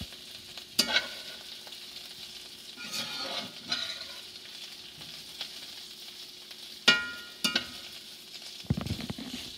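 A wishi mushroom fries gently in a pan on a stovetop over low heat, a soft continuous sizzle broken by several sharp clicks and clatters of a utensil against the pan.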